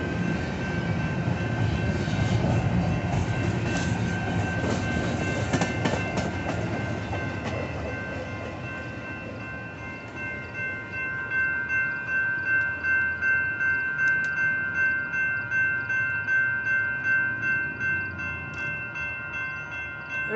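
A BNSF intermodal freight train, with empty and Baer table cars, rolls past a grade crossing, its rumble loud at first and then easing into a steady rhythmic clickety-clack of wheels over rail joints, with a constant tonal hum overhead.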